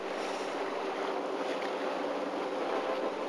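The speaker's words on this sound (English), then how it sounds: "the waves are splashing, which is absolutely wonderful." Waves splash and wash steadily against the shore, a continuous rushing roar with wind buffeting the microphone and no breaks.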